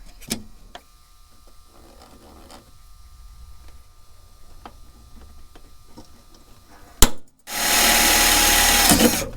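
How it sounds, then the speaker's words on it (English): A power drill whirs loudly for about two seconds near the end, drilling a hole in the back of a Scion xB fender for hood struts, after a stretch of quiet shop noise with scattered faint clicks. "after drilling the first hole, you mark out the second hole and drill it"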